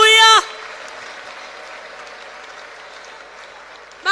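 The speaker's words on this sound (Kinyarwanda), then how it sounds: "Reka dukomere Imana amashyi menshi tuyishimire" A church congregation applauds in a steady, sustained wash of clapping that lasts several seconds, with a voice speaking briefly just before it and again as it ends.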